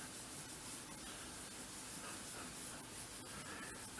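Fingers rubbing across the surface of a comic book during cleaning, a steady dense scrubbing friction that carries on without a break, close and fairly loud, with no voices.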